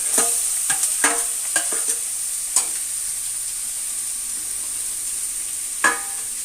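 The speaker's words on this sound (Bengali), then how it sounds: "পেঁয়াজটা হালকা ভাজা ভাজা হয়ে গেছে, এবার আমি কেটে রাখা গাজরটা দিয়ে দেব।" Chopped carrots are tipped into a pan of lightly fried onions, and a steady hot-oil sizzle runs throughout, broken by several sharp scraping stirs of a spoon near the start and one near the end.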